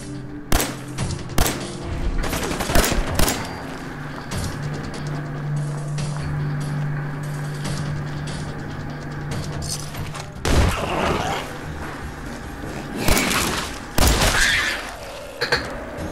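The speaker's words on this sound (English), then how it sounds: "Oh, hey, more gunfire." Gunfire in the video game Fallout 4 crackles in repeated sharp volleys and single shots, some clustered in rapid bursts, over a steady background hum, loud and busy throughout.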